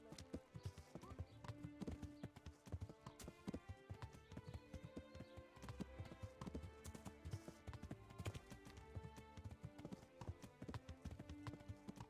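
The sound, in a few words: horse galloping in the video game Kingdom Come: Deliverance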